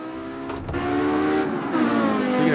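An Audi Quattro rally car engine drones steadily on the Nurburgring tarmac, rising in pitch as it revs up through the gears, with a rumbling shift partway through; loud and close throughout.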